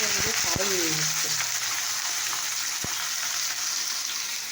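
Yardlong beans, potato and onion fry in hot oil with a loud, continuous sizzle and crackle. A voice is briefly heard at the start.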